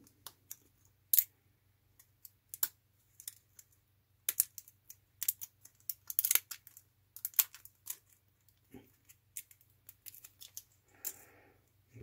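The skirt of a 1970s Tandy TV Scoreboard game console is peeled away by hand. Sparse, faint crackling ticks and small crinkly snaps come at irregular intervals over a quiet low hum, with no speech.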